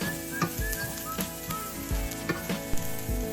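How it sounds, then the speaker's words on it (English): Celery and onions fry in a pan for turkey stuffing, a steady close sizzle with periodic knocks and scrapes of stirring, heard alone without talk. "So after the frying is done"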